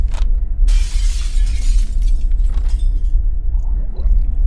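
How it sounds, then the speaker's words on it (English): A window pane is smashed with a rock: glass shatters in a loud, bright crash that trails off into scattered tinkling over a deep, steady rumble. "I picked up a rock and broke the glass."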